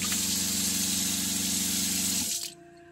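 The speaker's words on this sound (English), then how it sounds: "The control panel here, I have the water pump on." Tap water running in an InTech Luna Rover camper trailer with the water pump on, a loud steady rushing stream with a pump hum underneath that cuts off abruptly near the end, leaving a faint quiet hum.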